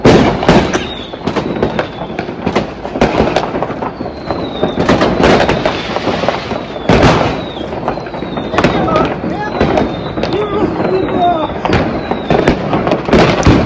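Repeated sharp bangs and crackling bursts of New Year's Eve fireworks and firecrackers in the Philippines, some near and loud, others distant, with whistles and voices talking in between.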